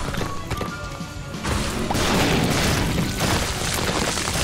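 Explosions in the video game The Binding of Isaac: Repentance, a run of dense, loud booming blasts that grow heavier and more continuous partway through, with no talk over them.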